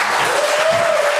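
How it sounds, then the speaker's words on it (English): Audience at a BLEACH voice actor panel at Undiscovered Realm Comic Con 2025 breaks into steady, dense applause, loud and close, filling the whole short stretch without talk. "Round of applause for these guys,"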